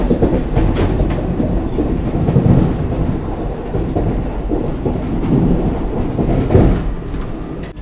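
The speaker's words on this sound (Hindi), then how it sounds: "अभी ट्रेन एकदम स्लो डाउन हो गई थी, बढ़िया स्पीड अप हो रही है" Vande Bharat Express train picking up speed after slowing, a continuous close rumble with rhythmic clickety-clack of wheels over rail joints, heard from on board without talk.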